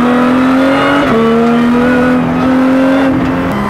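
A Lotus Cup R race car engine roars loud and close, holding a steady high drone with a brief dip and recovery in pitch around a gear change, continuous throughout without talk.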